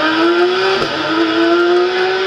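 A rally car's engine revs hard during a special stage of the Rallye des Grands Fonds, a loud, close, steady high-pitched whine that dips briefly mid-way and climbs again, with no voices.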